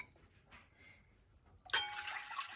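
Warm water for bread dough pours in a sudden steady splashing rush after a quiet start, close and fairly loud, continuing to the end.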